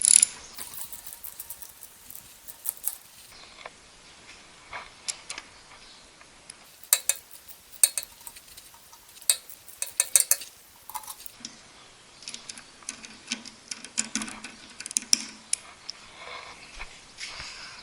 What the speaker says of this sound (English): you might want to start loosening up your bolts. So it's anti-clockwise if you want to loosen it.